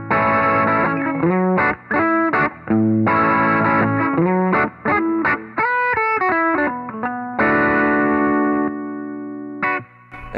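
An electric guitar runs through an overdrive pedal, playing distorted chords and quick riffs with brief pauses, loud and alone with no talk.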